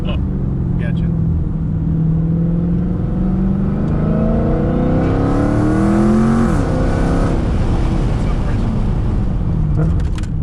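A Dodge Hellcat accelerates hard, its engine note climbing loudly in pitch through rapid gear shifts, with a brief drop at each change and a sustained roar, while people talk inside the car.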